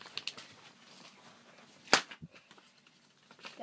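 A folded paper popper snaps once with a sharp, loud crack, standing out alone against a quiet room.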